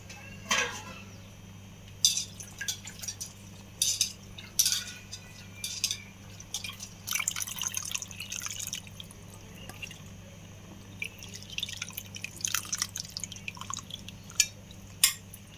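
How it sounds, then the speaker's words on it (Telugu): Tamarind broth for Andhra fish curry simmers in a pot, giving faint irregular bubbling pops and drips, with an occasional soft clink of a utensil. "చింతపండు పులుసు వేసుకున్నామండి, మరుగుతుంది."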